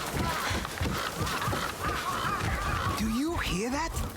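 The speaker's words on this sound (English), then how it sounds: "Some birds are fighting on the roof." Birds squabble on a rooftop in the video game Ghost of Yotei, with harsh honking, squawking calls, and rising, bending cries layered over a busy, noisy background.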